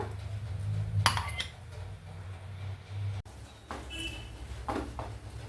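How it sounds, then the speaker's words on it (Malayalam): A metal lid set onto a cooking pot on the stove, a few light clinks and clatters of metal on metal, close and brief, with quiet kitchen ambience between. "ഇത് അടച്ചു വെക്കുക."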